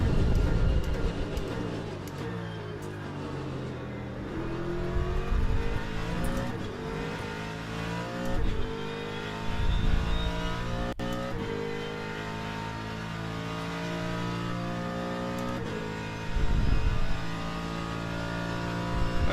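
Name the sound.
hypercar engine racing at Le Mans, video game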